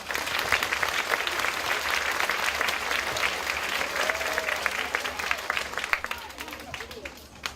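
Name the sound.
audience applause at school celebration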